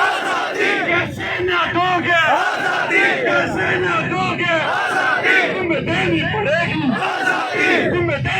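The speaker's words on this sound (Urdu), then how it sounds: "کارکنان کی جانب سے شدید نعرے بازی" A dense crowd of PTI party workers chants and shouts slogans in loud, continuous unison at a rally in Karak where police are firing tear-gas shells, the massed voices rising and falling in repeated rhythmic bursts.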